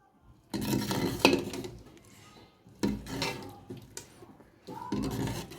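Matar gosht being stirred in a pot after ground garam masala goes in, heard as bursts of scraping and clinking of a spoon against the pot in three separate passes, close by and moderately loud with pauses between.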